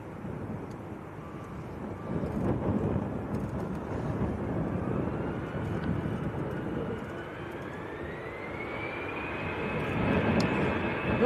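A Lufthansa A320 airliner bound for Munich at Manchester Airport rumbles steadily, with a rising engine whine building toward the end as the sound grows louder.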